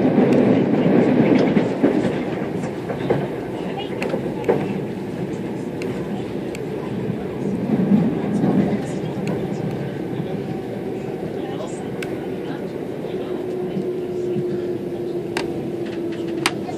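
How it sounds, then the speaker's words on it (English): Cab noise aboard a Southern Class 377 electric train running between Lancing and Shoreham-by-Sea: steady low rumble with faint rail clicks throughout, under an onboard announcement. "This train is the Southern service to Brighton."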